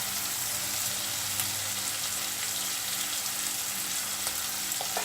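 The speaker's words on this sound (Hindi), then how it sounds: "शिमला मिर्च और प्याज को अच्छे से पकाना है ताकि ये थोड़े थोड़े गोल्डन ब्राउन कलर लग जाए।" Capsicum and onion frying in a pan for chili paneer, a steady loud sizzle with crackling and occasional stirring clinks, close and continuous with no talking.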